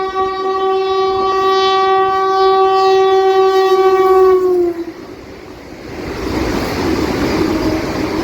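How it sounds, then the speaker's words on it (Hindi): Amritsar-Delhi Vande Bharat Express passing at speed, heard from a DMU train near Ambala: a loud sustained multi-tone horn for about five seconds, then a rushing rumble of the passing train. "दोस्तों सामने से आ रही है अमृतसर दिल्ली वंदे भारत एक्सप्रेस"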